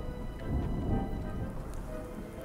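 A thunderstorm in the survival game Smalland brings dense, steady rain with low rumbling thunder swelling and fading beneath it, and no voices.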